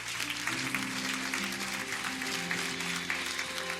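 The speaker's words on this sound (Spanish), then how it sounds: "Un fuerte aplauso para ellos." Congregation at a church service applauding, a dense continuous wash of clapping over sustained organ or keyboard chords, loud and steady throughout.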